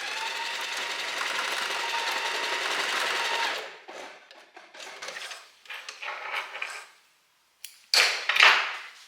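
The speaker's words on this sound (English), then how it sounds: "And then we sew the elastics together." A sewing machine stitches the ends of elastic together for long linen pants, running steadily for a few seconds, then in short bursts with pauses between them, close and fairly loud.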